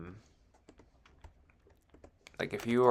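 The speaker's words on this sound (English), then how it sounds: "while I'm typing this up" Fingers type on a computer keyboard in a quiet room, a scattered run of soft, irregular key taps, before a voice begins talking near the end.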